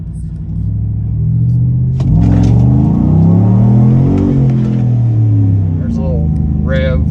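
Chevrolet Trail Boss truck engine revving in manual mode, a loud close rumble whose pitch climbs and falls through several swells before settling into a steady idle.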